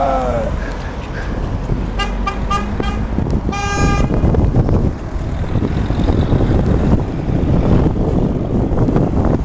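Many car horns blare at once during a street protest, overlapping toots and long honks over heavy traffic rumble, loud and close, with voices mixed in the din.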